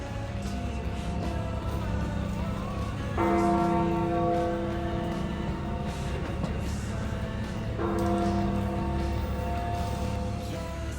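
Large bells of Valencia Cathedral in Spain ring in two loud bursts of rich, sustained tones over a steady background hum, fading between peals.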